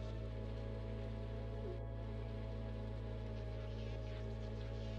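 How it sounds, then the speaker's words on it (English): Rain in a Stardew Valley horror mod, a constant even hiss of falling rain on surfaces, soft and unbroken, layered over a low steady background hum, with no speech. "It is raining."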